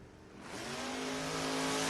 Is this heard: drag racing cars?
yes